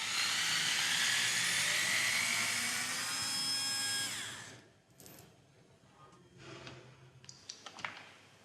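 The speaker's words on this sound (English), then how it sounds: "Then, remove the bypass lever using a T25 bit." A power driver fitted with a T25 bit spins out the bypass lever on a CVT transmission, a high steady whine lasting about four seconds, followed by faint scattered metallic clicks and taps.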